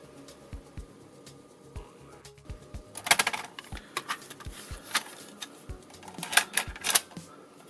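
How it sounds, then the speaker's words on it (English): A cassette tape is loaded into a tape drive, giving a series of faint mechanical clicks and clunks, with a louder burst of rattling handling noises in the middle and near the end. "we'll get this in a tape drive"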